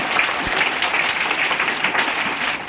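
Applause welcoming teachers at a school gathering, a steady wash of many hands clapping at moderate loudness that holds for a few seconds.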